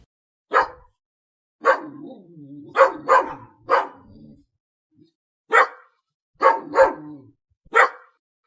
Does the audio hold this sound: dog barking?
yes